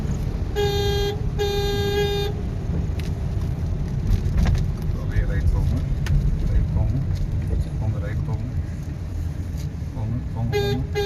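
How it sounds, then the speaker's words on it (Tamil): A car horn gives two short honks close by during an off-road driving lesson, over steady engine and road noise while an instructor talks in Tamil. "இப்போ பிரேக்கில் கால் மாற்றிக்கிங்க, ஹார்ன் அடிங்க"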